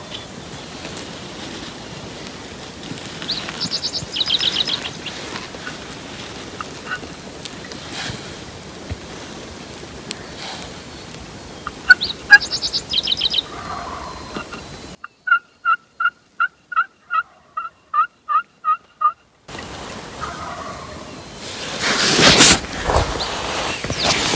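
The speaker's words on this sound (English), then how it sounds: "Too many gobbles." Wild turkeys gobble during a spring hunt, a burst of repeated gobbles rising midway through outdoor ambience, with a separate run of evenly spaced calls partway through and a louder rush of noise near the end.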